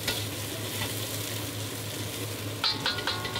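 Onions hit a hot wok over very high heat, making a steady crackling sizzle with a low hum from the burner beneath, then brighter spattering bursts near the end.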